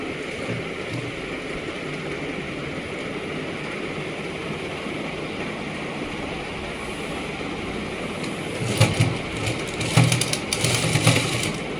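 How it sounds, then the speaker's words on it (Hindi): A sewing machine stitches along a shirt's button placket, giving a steady mechanical whir throughout with a few louder bursts of clatter near the end. "इसको ऐसे बटन के साथ साथ बिल्कुल ऐसे रखो और सिलाई करो।"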